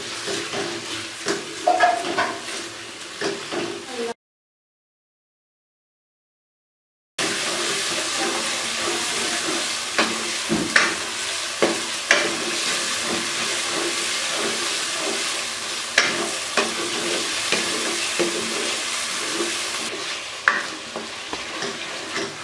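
Chicken frying with masala in a pan, a dense close sizzle broken by scraping and stirring strokes, with a few seconds of total silence partway through and no voices.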